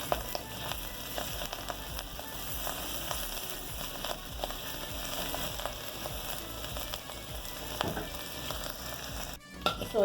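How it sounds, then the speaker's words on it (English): Chunks of saltfish fry in a pan, a steady close sizzle and crackle that runs without pause, with no talking. "fry it up like this first"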